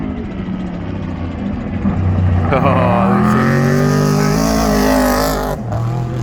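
A race car in the Finke Desert Race on a cold early morning in the desert roars past at speed. The engine note swells, pitches up and then drops away, while a voice talks over it.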